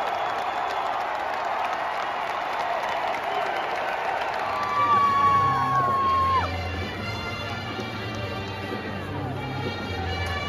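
A packed arena crowd at a university basketball championship roars with cheering and applause, loud and dense, with shouts and a squeaking shoe rising through the din.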